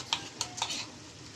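Ginger garlic paste is stirred into chicken curry frying in a pan. A few quick scraping strokes of a spoon sound over a faint, soft sizzle, close and brief.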